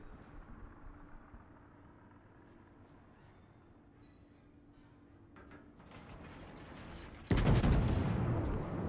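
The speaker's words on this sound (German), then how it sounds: "Schüsse sind jetzt Richtung Cleveland raus." Battleship guns fire in the naval video game World of Warships, with a sudden loud boom late on that rolls into a sustained rumble after a quieter stretch of low ambient background noise.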